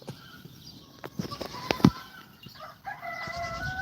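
A rooster crows at a distance amid outdoor ambience, with a few soft thumps and flutters nearby.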